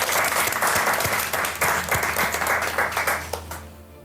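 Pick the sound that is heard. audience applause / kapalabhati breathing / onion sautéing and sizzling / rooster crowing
audience applause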